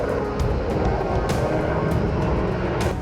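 Turkish F-16 fighter jets take off from an air base with a loud, steady roar of jet engines, dense and continuous across the full stretch with no voices.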